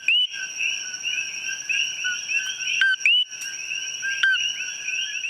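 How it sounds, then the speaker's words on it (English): Coqui frogs call loudly and steadily in a dense chorus, sharp repeated two-note chirps layered over one another with a few louder close calls standing out, and no voices. "And yeah, the coqui frog is loud."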